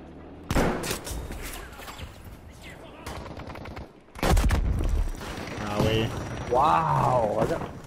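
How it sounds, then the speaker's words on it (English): An anti-aircraft gun in Battlefield V gameplay fires in bursts of dense, loud rapid shots with booming impacts, mixed with game effects while players talk over it. "Watch out, they got an AA gun shooting on it."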